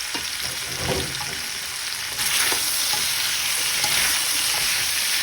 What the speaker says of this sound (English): I'm going to be adding my zucchini and my yellow squash